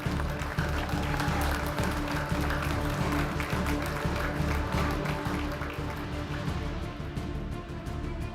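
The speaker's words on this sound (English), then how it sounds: "Once again, a round of applause for Max Benko." A round of applause at a youth European pool championship medal ceremony, steady and moderately loud clapping from a hall audience that holds for several seconds and slowly thins toward the end.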